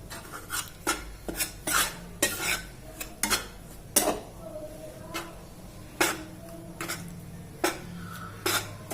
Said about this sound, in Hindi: तो इसको हम बिना घी के ही इसको रोस्ट करेंगे, बहुत हल्की आंच पे